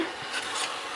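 Spatula scraping and rubbing through spinach and tuna in a cooking pan, a short close raspy stir with soft sizzling texture and no talking.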